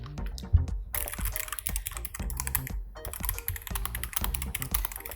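A Zuoya GMK104 mechanical keyboard is typed on close to the microphone, giving a fast, uneven stream of clicky, clacky, somewhat scratchy keystrokes with brief pauses between bursts.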